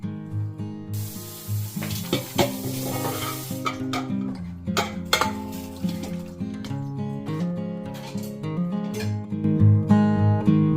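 Rajma cooks in an overfull small kadhai with a steady wet sizzle and bubbling, broken by repeated scraping stir strokes and soft clinks of a spoon against the pan.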